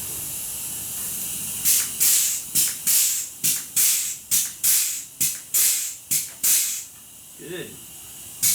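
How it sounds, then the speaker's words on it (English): An air-powered grease gun greases a Kubota 008 mini excavator, letting out about a dozen short, sharp pneumatic hisses in a steady rhythm, close and loud, followed by a quieter pause. "I don't know how much grease is left in my air greaser here, but we'll give her some."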